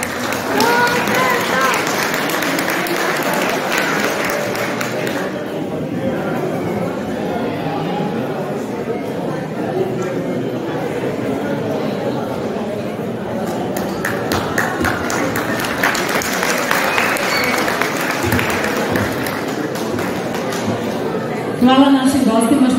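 A concert audience applauds at an Easter concert in Živica: sustained, dense clapping from many hands carries on at an even level, while a presenter speaks over it.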